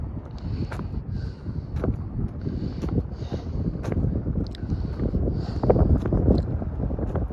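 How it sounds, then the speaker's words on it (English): Breezy outdoor wind buffets the microphone in a steady low rumble throughout a night walk, with brief louder gusts and no talking. "It is breezy. It does make a little wind chill, but really not that bad."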